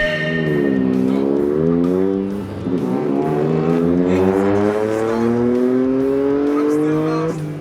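Four cars, among them a Toyota GR Corolla and a Toyota 86, launch together from a race start, engines revving hard and rising through the gears, tires briefly squealing as the overlapping engine notes climb.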